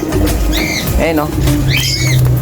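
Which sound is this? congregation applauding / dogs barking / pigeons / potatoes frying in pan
pigeons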